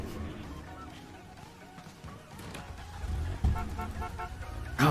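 Engine of a beat-up car in a driving video game, a steady low rumble that swells and grows louder in the last couple of seconds, with a brief sharp knock partway through.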